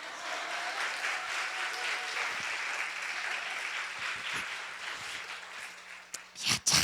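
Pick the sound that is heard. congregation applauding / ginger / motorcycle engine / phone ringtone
congregation applauding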